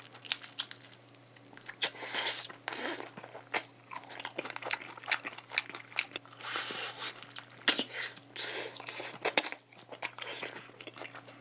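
Crunchy fried chicken, a half-and-half of creamy onion and spicy Hot Bling flavours, eaten with chopsticks in close-up, giving repeated crisp crunches and chewing sounds in uneven bursts with no talk.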